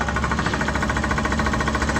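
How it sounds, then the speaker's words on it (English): Heavy machine hammering into rock while digging out a pond, a dense, continuous rapid pounding with engine rumble underneath, loud and close throughout with no talk. "we're obviously hammering away at the rock"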